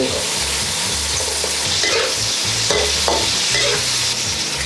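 Garlic, chili and onion stir-frying in oil in a pan, a steady loud sizzle with scraping stir strokes throughout, no voices.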